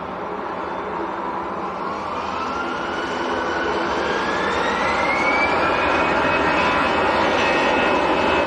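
A Swiss-registered EasyJet jet airliner at Manchester Airport roars steadily and loud, with a rising engine whine sweeping upward through the sound as it passes near, no voices.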